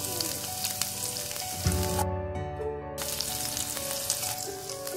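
Garlic roasts in hot oil with cumin seeds and a pinch of asafoetida, a steady crackling sizzle with scattered pops, briefly swelling as something is stirred or added midway.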